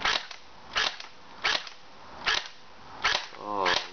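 Six sharp shots from a D-94 FirePower electric air rifle fired at a target outdoors in wind, each a crisp crack spaced roughly half a second to a second apart, close and clear with no talking.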